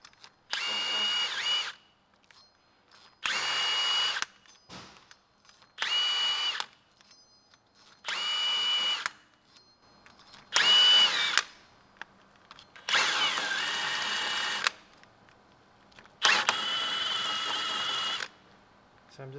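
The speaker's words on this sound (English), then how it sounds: "So I'm just cleaning the surface as much as possible. Get that rust off." A power tool grinds rust off the rear hub surface of a 2019 Lexus RX350 during a brake rotor job, in seven loud bursts of a couple of seconds each separated by short quiet gaps.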